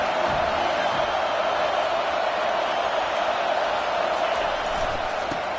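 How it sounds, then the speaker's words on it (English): A stadium crowd roars continuously and loudly at an Auburn vs USC college football game. The dense, steady wall of cheering has no pauses and gives an ear-splitting welcome to the visiting team. "This crowd bringing an ear-splitting welcome to their visitors."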